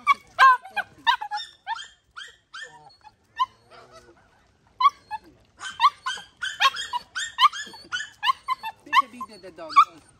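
Close dog repeatedly barking and whimpering in quick bursts with short pauses, loud and near, and voice-like yips mixed among the calls.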